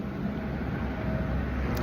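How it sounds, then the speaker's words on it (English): Road traffic noise on a drive from New Mexico into Texas, a steady low rumble and broad roadway hiss heard from inside a moving vehicle, constant and unbroken. "Very noisy with the traffic."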